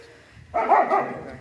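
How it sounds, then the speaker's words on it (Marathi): A dog near a village temple gives a single short burst of barking, loud and close, after a quiet stretch with faint background noise. "कुत्र्याला नाही घाबरायचं"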